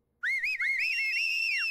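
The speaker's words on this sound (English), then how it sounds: "I whistle too." A person whistles a short, wavering melodic phrase, clear and close, sliding up and down in pitch before trailing off.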